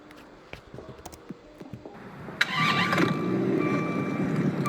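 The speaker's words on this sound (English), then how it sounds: "Alright, so here's the startup sound." Dodge Viper ACR-E engine starting up in a video game: a few quick clicks and cranking, then the engine catches with a loud burst and settles into a rough, steady idle, heard alone.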